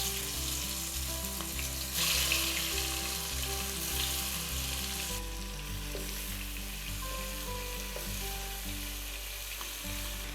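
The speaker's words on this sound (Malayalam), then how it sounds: "അപ്പോൾ നമ്മുടെ എണ്ണ നല്ലോണം ചൂടായി വന്നിട്ടുണ്ട്. അതിനകത്തോട്ട് നമ്മുടെ ചിക്കൻ ഓരോന്നായിട്ട് ഇട്ട് കൊടുക്കാം." Chicken pieces sizzle and fry steadily in hot oil on a flat tawa for a street-style Hyderabadi chicken fry, a loud continuous crackle with no talk.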